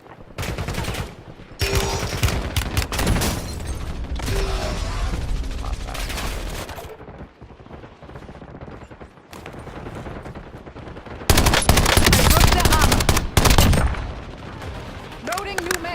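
Dense, loud bursts of automatic gunfire and explosions from Call of Duty Black Ops 7, with rapid sustained volleys, a few brief lulls and a heavy barrage near the end.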